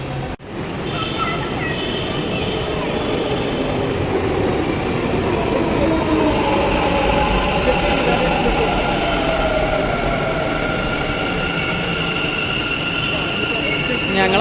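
A Bangalore metro train runs at a station, its steady low rumble and rail noise filling the platform for the whole stretch, close and fairly loud, with faint voices mixed in.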